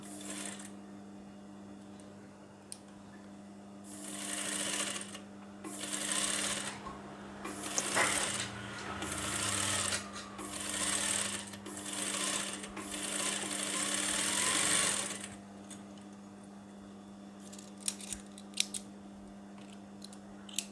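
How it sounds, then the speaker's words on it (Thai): A sewing machine stitches a small hem on a sleeve cuff in short bursts of rapid, close stitching, separated by brief pauses over a constant low motor hum, with faint handling noises and clicks near the end. "จะเย็บริม ในส่วนของปลายแขนนะ เย็บเก็บริมเล็ก ๆ ค่ะ"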